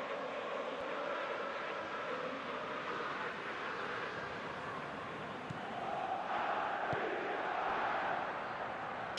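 A stadium crowd roars in eFootball PES 2021 during a Liverpool vs Manchester United match, a broad, continuous wash of cheering at moderate level that swells slightly toward the end.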